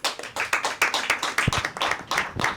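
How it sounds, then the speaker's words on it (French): Women clapping together in a room, a steady run of sharp, close hand claps at an even rhythm with no talk over them. "Amina, tu vois bien que les femmes applaudissent"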